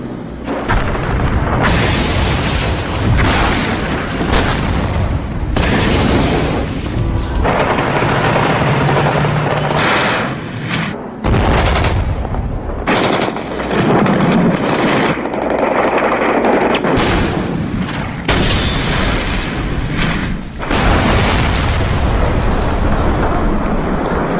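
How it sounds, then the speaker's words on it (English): Artillery shelling of the White House parliament building, with troops storming it: dense, continuous loud blasts and rumbling booms fill the whole stretch, dominating with no speech. "he ordered troops to storm the White House, shelling the very building he had defended 2 years earlier"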